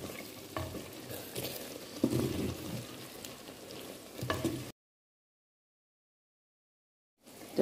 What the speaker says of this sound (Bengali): একটু নাড়িয়ে দিচ্ছি যেহেতু গরম মশলাটা দিলাম।